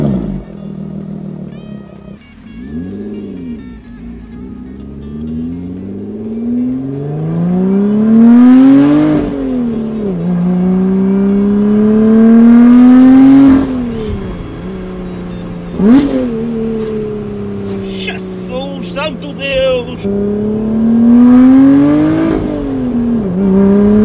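Lotus Evora GT 430 sports car driven hard on the road near Geneva, heard loud from the cabin as the engine repeatedly climbs through the revs, with sharp blips and rev-matched downshifts between the long pulls.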